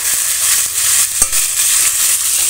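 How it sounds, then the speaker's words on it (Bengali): Potatoes frying in white oil in a wok, giving a loud, steady hissing sizzle with a few soft clicks and scrapes from stirring, and no talking. "ওই তেলের মধ্যে আলুগুলো ভেজে নেব, তার জন্য আলু দিয়ে দিলাম।"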